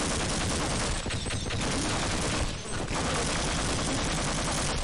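Alien turret gunfire in the 1998 game Half-Life, dense rapid continuous shooting that fills the whole stretch at a steady loud level with a brief dip midway.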